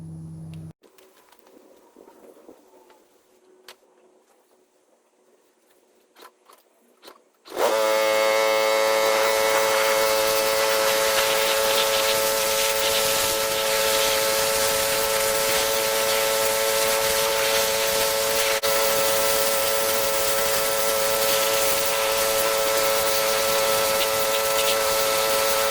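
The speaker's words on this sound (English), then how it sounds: "Fire up the pressure washer." Once the pressure washer is fired up, a loud, steady engine drone with a hissing spray starts suddenly after a quiet stretch and runs on without letup.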